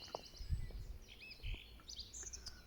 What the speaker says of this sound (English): The birds have been giving it fucking yaldi this morning.